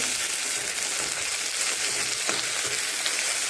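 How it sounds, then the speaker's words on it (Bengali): Chopped tomato fries in cooked spice masala for a katla fish curry, giving a steady, close sizzle with faint stirring and no talk. "এখন টমেটোটা ভালো করে ভাজতে হবে।"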